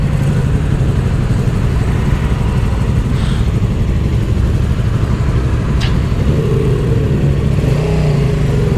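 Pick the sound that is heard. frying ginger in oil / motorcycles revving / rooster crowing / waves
motorcycles revving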